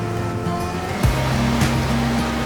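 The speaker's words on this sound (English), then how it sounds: "Look at the river!" River rushing along a valley in Doodhpathri, Kashmir, a steady broadband wash of flowing water with a brief louder splash, heard close and continuous without speech.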